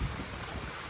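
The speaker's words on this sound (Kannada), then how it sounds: "ನೋಡಿ, ಗಾಳಿ ಗಾಳಿ ಬೀಸ್ತಾ ಇದೆ" Gusty wind blows just before a thunderstorm, a brief low rumbling rush buffeting the microphone, steady and moderately loud, with no voices.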